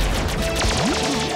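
Cartoon weapons fire in a rapid burst of blasts and crashes, a Blue Pulse Gun and a Steel Cannonball shot off during a robot car battle, loud and dense with a sweeping zap near the end.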